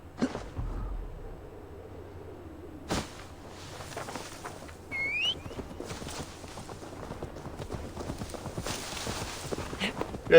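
Hooves clip-clopping steadily as a horse moves in the game Assassin's Creed Valhalla, a moderate rhythmic patter with occasional louder thumps and other game sounds mixed in.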